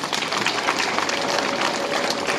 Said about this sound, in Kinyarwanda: babamera amashyi menshi n'impundu